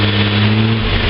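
A car engine revs up slightly under a hand on the throttle, a steady close hum with strong low harmonics that climbs a little in pitch across one continuous second.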